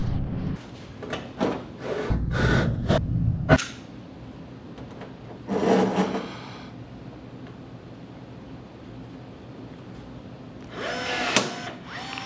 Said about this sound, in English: you have to match drill the skin into the trailing edge spar